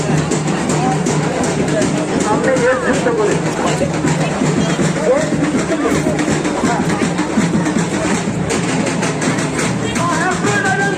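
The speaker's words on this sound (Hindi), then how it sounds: "बहुत ज़्यादा भीड़ है।" A dense crowd at a Saraswati Puja celebration in Paschim Medinipur, with constant loud babble, music and movement filling the scene close by while someone talks over it.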